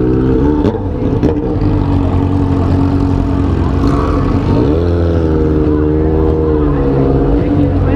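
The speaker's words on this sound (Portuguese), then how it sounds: "velho, escapamento do Rex" A loud, very close vehicle exhaust drones and revs continuously, its deep engine note rising in pitch partway through, with people talking over it.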